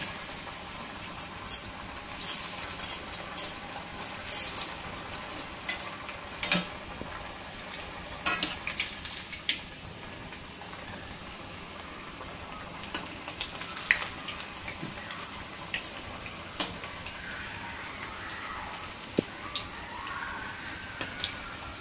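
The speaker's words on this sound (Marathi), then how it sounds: "आता आपण त्याच्यामध्ये वड्या बारीक गॅस करूया आणि मस्तपैकी डीप फ्राय करून घेऊया" Alu vadi pieces deep frying in hot oil on a low flame, a steady faint sizzle under scattered clinks of a spoon against the pan and occasional kitchen clatter.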